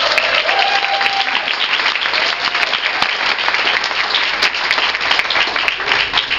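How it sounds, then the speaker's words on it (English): A large audience claps loudly and steadily at an awards introduction for the Emerge Maine Woman of the Year, a dense unbroken wash of applause with no speech over it. "Don't clap now, you'll just wear yourself out."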